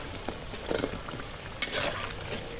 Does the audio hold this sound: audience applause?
no